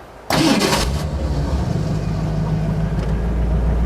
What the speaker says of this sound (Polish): Zaczniemy może od odpalenia i posłuchania jak brzmi